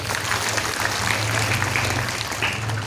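An audience at a Shrimad Bhagavat katha gathering claps together in a sustained, dense burst of applause for a few seconds, with a low steady hum underneath and no speech.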